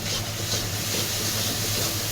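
Chili powder and spice paste frying in oil in a pan for a cauliflower curry, giving a steady, close, dense sizzle that holds without a break.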